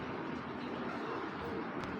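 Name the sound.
pigeon cooing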